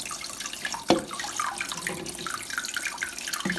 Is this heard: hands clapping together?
no